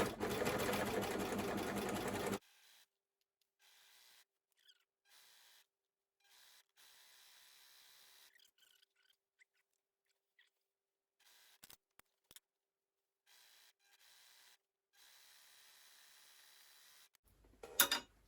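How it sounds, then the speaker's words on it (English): An overlocker stitching the crotch seams of a pair of trousers, a steady fast mechanical whir running loudly for a couple of seconds, then mostly quiet handling with small clicks before a brief restart. "I'm going to overlock the front and the backs together on the inner leg"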